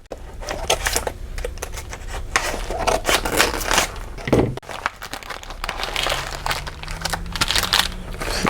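Scissors and hands cut open a plastic package of designer washi tape up close, with crinkly plastic crackle, snipping and rustling that keep going throughout, plus a brief pause midway.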